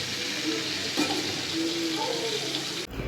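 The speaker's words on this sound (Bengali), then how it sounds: "এখানে ছেলের জন্য 1 পিস বোয়াল মাছ ভেজে নিচ্ছি। সাথে হচ্ছে এই ডিমটা" A piece of boal fish and its roe fry in a pan with a steady, close, dense sizzle that continues throughout, with a faint voice in the background.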